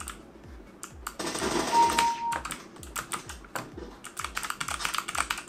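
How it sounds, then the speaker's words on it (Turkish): Rapid clatter on an MSI Vigor GK50 Elite mechanical keyboard with Kailh Box White switches, dense bursts of clicky keystrokes close up, with a brief louder flurry in the middle and no talking. "Aynı anda birden fazla tuşa hızlıca basmama rağmen hepsini kavruyor."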